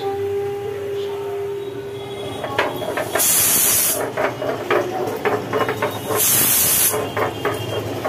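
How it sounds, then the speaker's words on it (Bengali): A pressure cooker boiling biuli dal lets out two loud, sharp bursts of hissing steam a few seconds apart, with clattering kitchen sounds between them. "বিউলির ডাল সেদ্ধ করতে দেওয়া হচ্ছে প্রেসারে।"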